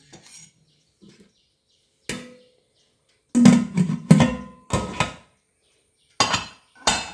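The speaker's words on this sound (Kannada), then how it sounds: "ಮುಚ್ಚಳ ಮುಚ್ಚಿ ಈಗ ಬೇಯಿಸ್ಕೊಳ್ತಾ ಇದ್ದೇನೆ" Metal clinks and clatters of a lid going onto a cooking pot that holds raw banana in water with coconut oil, a few sharp knocks in irregular bursts, close and fairly loud with quiet gaps between.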